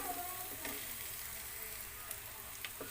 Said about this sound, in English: Now let's cook our onion between 4 to 5 minutes, or until the onion gets translucent